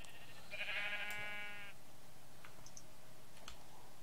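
Sheep bleating in the video game Minecraft: one clear wavering bleat up front, followed by faint clicks and game noises over a quiet background.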